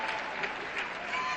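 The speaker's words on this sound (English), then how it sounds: "there's a big crowd of Americans on hand cheering her on" A big crowd of Americans cheers and applauds for a gymnastics world champion at a world championships apparatus final, with a dense, sustained wash of clapping and distant cheers.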